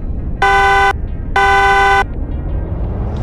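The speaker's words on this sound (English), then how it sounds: "on my third honk" A car horn gives two loud, steady honks, each about half a second long and close by, as a start signal for a side-by-side acceleration race, with low road rumble between and after.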